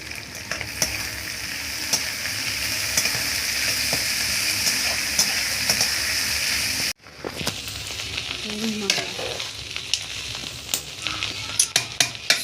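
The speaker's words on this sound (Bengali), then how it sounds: "কিশমিশ, কাজু, তেজপাতা, এলাচ, এগুলো ভেজে নিবা।" Raisins, cashews, bay leaves and cardamom frying in a pan, a loud continuous sizzle with crackles and stirring clatter, briefly cut and resuming, with faint voices in the background.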